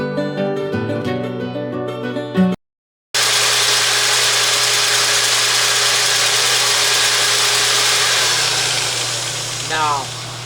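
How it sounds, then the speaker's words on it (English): A handheld drill spinning sandpaper against a dry oak platter turning on a lathe gives a steady whirring, grinding hum, loud and continuous after a brief burst of music and a short gap. "I'm holding this drill and my sandpaper almost at a 45, a little less than that, against the wood"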